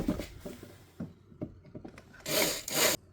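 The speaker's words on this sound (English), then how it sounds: "we've got to drill the 2 rivets out" Scraping, grinding bursts of a 4 mm drill bit working through two metal rivets on a crank-type window roller shutter, irregular and close, with a louder sustained stretch near the end.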